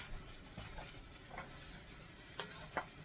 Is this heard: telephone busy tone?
no